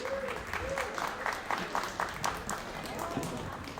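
Wedding guests give a round of applause after a speaker is welcomed to the mic, a steady, moderately distant patter of many hands with some talk underneath.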